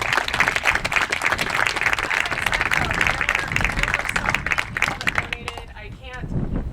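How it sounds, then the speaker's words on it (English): An audience at an outdoor groundbreaking ceremony for a water system rebuild claps and applauds loudly, dense sustained clapping with some crowd murmur that tapers off near the end. "could we please give a round of applause to Humboldt Redwood and John Anderson?"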